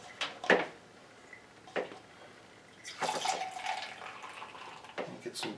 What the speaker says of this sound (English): first let's pour out the sanitizer